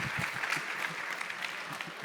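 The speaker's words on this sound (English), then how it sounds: "can we have a big round of applause" A conference audience claps for a guest leaving the stage in a brief, fairly faint burst of many hands clapping, steady and crowded for about two seconds with no speech over it.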